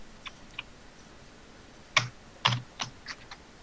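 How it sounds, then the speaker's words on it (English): Hard, heavy typing on a computer keyboard, a handful of sharp separate clacks with a few louder strikes near the middle, close to the microphone in an otherwise quiet room. "Someone is beating the crap out of their keyboard."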